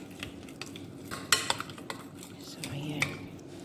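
Spices, olive oil and chicken being stirred together in a bowl, with utensils scraping and clinking intermittently at close range against faint background noise.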